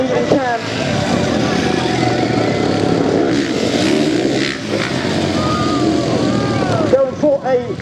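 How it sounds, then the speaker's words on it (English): Stunt motorcycles revving and roaring continuously through a display team show routine, loud and near, with a commentator talking over the engine noise throughout. "Oh, Samson turning that bike sideways like only Mr. Eaton can."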